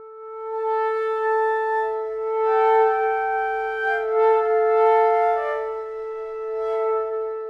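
Sustained, breathy woodwind chords from a sampled solo winds library swell and recede in slow surges, layered pitches rising and falling in soft waves with no voices.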